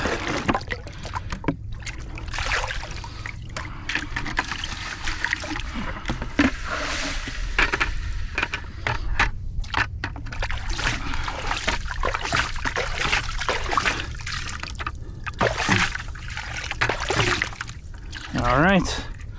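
Water runs and sloshes steadily through a mini high banker sluice outdoors while prospecting for gold, a continuous trickling wash beneath nearby talk throughout.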